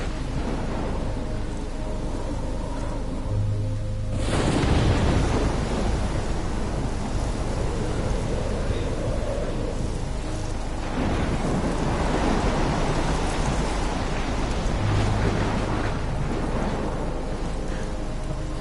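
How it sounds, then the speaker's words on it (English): Steady heavy rain roars throughout in a video game, with deep rumbling swells like thunder rolling in twice, loud and close, with no voices. "It is raining hard."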